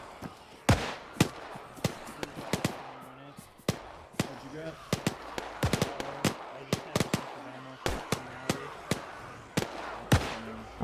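Repeated gunshots crack out in the Arma video game, some in quick bursts and others spaced apart, loud and sharp over a steady background bed. Occasional game noises sit between the shots.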